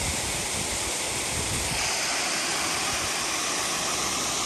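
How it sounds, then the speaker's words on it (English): Flowing water from a waterfall beside a 12,000 ft mountain pass, a loud, steady broadband rush that fills the whole clip with no break and no talk. "it's definitely water flowing that way"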